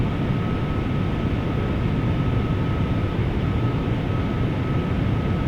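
Steady cabin drone of a Boeing 757-200 on final approach in Flight Simulator X, a constant low engine rumble with a faint whine, unbroken and even throughout.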